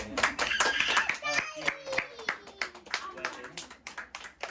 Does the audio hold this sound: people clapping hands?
yes